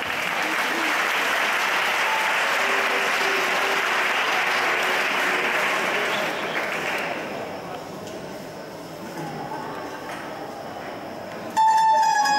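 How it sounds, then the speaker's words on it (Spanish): An audience gives María loud, dense applause before she performs, steady for several seconds and then thinning into scattered claps, followed by a brief burst of another sound at the end. "Fuerte el aplauso para María."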